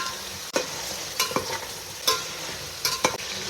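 Onion, tomato, green chilli, coriander and mint fry together for an eggplant and potato pulao. Soft sizzling sits under repeated spoon clacks and scrapes against the pan, about four stirring strokes in quick succession.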